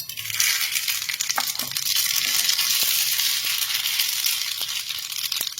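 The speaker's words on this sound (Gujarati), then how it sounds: "રાઈ બરાબર ફૂટી ગઈ છે." Mustard seeds crackle and pop in hot oil while tempering coconut chutney for dosa: a steady, close frying hiss broken by sharp scattered pops throughout, with no talking.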